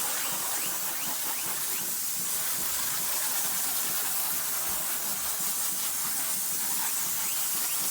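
A garden hose sprays water steadily onto cedar siding beside a door, a continuous close hiss of water hitting wood that holds at an even level throughout with no talk.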